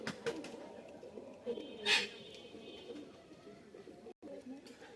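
Pigeons of the Black Teddy and Khulna red breeds coo softly in the background, with a brief louder call and a steady murmur of room noise around them.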